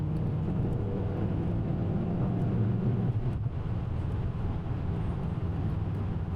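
A right-hand-drive Mazda RX-7 engine running, heard as a steady, loud, low rumble that drones on without a break.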